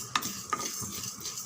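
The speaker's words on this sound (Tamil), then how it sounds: "தீய மிதமான அனலில் தான் வச்சு வறுக்கிறேன்." Sesame seeds sizzling and crackling in a hot pan over medium heat, with a couple of quick scraping stirs, close and fairly quiet.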